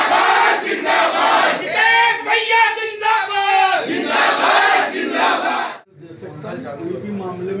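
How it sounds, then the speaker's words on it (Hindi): A loud crowd of student protesters at a college cheers and shouts together in rhythmic, chant-like bursts. The noise is sustained and close, then drops briefly before a softer murmur continues. "तालियां बजा दो भाई।"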